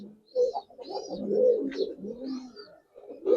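Giribaz and Army pigeons cooing close by: a series of soft, throaty coos in short rolling bursts with brief pauses between, fairly faint, with no talking.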